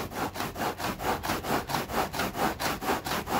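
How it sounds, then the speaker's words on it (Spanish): Steady back-and-forth rubbing strokes, about three per second, a rough abrasive scraping of a homemade foam sander on foam, close and continuous with no voices. "Esto todavía funciona, todavía rebaja la espuma"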